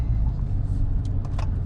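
A 2019 widebody Dodge Challenger out on a Saturday cruise, a steady loud low engine and road rumble from inside the car with no clear changes in pitch.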